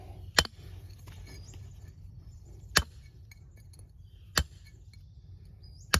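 A chisel scores a concrete paver in a DIY cutting job, giving three or four sharp, isolated strikes spaced a couple of seconds apart over a steady low background hum, close and fairly loud.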